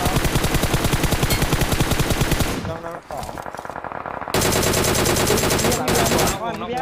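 Rapid automatic gunfire from a team first-person shooter game rattles in dense bursts, breaking off briefly around the middle before firing resumes loudly to the end, with no voices.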